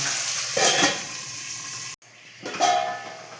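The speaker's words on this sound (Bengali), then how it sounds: "এবার পেঁয়াজগুলোকে লাল লাল করে ভেজে নেবো" Onions frying in a pan while making chana masala ghugni, a steady soft sizzle running throughout with a brief break and a few louder stirring bursts, no talking.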